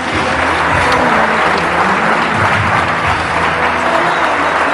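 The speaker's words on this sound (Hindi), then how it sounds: "सबसे पहले तो आप ये तालियां सुने जो पाकिस्तानी लोग आपके लिए बजा रहे हैं।" Loud, dense applause from a large crowd, continuous and unbroken throughout, filling the space with a steady wash of clapping.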